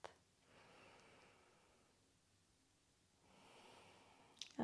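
A long, slow breath drawn during a yoga flow for low back pain, soft and close, rising and falling twice over a few seconds in near silence.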